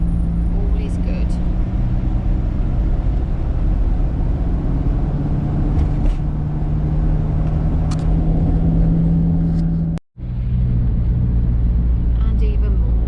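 Steady engine drone and road rumble inside a campervan crawling through bank holiday traffic, continuous and close, with a brief dropout near the end.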